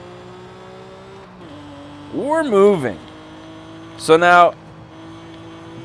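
A cammed twin turbo Mitsubishi GTO engine in Forza Horizon 5 revs in two sharp, rising bursts over a low idle, with someone talking briefly before them.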